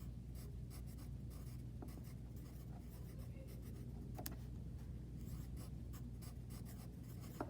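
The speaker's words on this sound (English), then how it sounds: "So I'm going to write that at the very end." Pen or marker writing steadily across a surface, a soft continuous scratching with quick strokes and small ticks, close-up and faint, with no speech.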